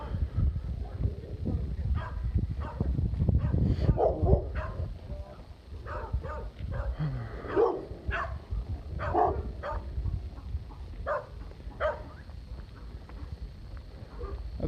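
Several dogs bark in scattered bursts at a moderate distance over outdoor ambient noise, with rhythmic clopping in the background.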